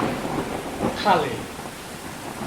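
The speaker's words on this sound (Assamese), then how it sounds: "বৰষুণ দেখোন নেৰাই গ'লে।" A rain-and-thunder sound effect from a radio drama: a dense wash of steady rainfall with a low thunder rumble swelling near the middle. A voice speaks briefly over it.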